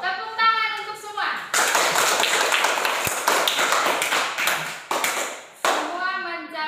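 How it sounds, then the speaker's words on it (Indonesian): Students in a classroom break into sustained applause, a dense burst of many hands clapping for several seconds between a teacher's spoken lines. "Tepuk tangan untuk semua."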